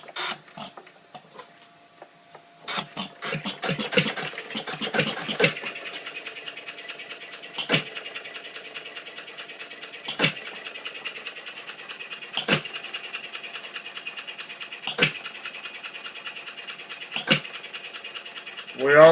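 A Canfield model engine starts up and runs with a fast, steady mechanical chatter, marked by sharp periodic clicks every couple of seconds; people talk briefly near the start.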